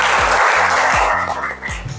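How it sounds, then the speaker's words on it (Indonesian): A grade 7 class applauds two classmates, a steady dense wash of clapping that carries through the whole moment with some voices mixed in. "beri tepuk tangan buat kedua temanmu"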